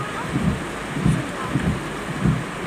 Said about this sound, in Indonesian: Oh, teh hujan coba.